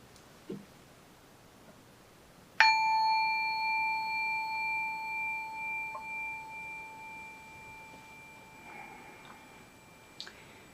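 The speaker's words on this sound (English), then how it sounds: "I'll ring a bell for us to start" A single meditation bell struck once, ringing out clear and close with a long, slowly wavering fade over several seconds, in an otherwise quiet room.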